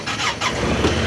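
A 2018 Honda Pioneer 1000 utility vehicle's engine turns over and settles into a steady, fairly quiet running hum up close for about a second, with no talking.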